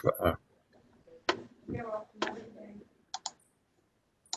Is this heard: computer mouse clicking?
yes